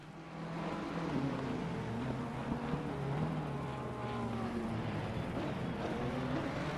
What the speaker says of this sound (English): Just listen to the Jag's engine there.